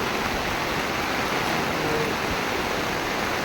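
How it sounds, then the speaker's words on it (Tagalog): Loud, steady rush of strong floodwater during heavy rain in Palompon, Leyte, filling the whole clip, a dense broadband roar with no breaks or voices. "so mga kaparmi sobrang lakas ng tubig tapos malakas ba yung ulan"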